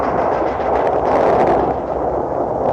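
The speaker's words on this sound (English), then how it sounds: "After Henry Knox, his colonel of artillery, returned from Fort Ticonderoga with a large supply of cannon, Washington opened fire" Colonial-era cannon fire during Washington's siege of Boston, a loud, continuous rumbling barrage of booming artillery that holds steady throughout with no distinct gaps.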